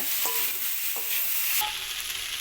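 Spices for a papaya, potato and soybean curry are being sautéed in a pan, giving a dense, steady sizzle. A few distinct scrapes of a spoon sound against the pan as it is stirred.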